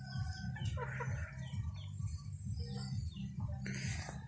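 Chickens cluck and chirp on a rural farm amid other birdcalls, close and continuous over a steady low background hum.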